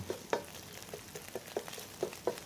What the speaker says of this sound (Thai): จากนั้นก็ใส่หัวหอมใหญ่ลงไปเลยครับ